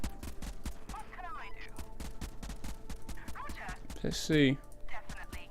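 Vehicle-mounted weapons on an MCV in the video game Convoy fire as a fast run of sharp repeated shots, steady through the clip with a louder burst near the end, while someone talks briefly over it.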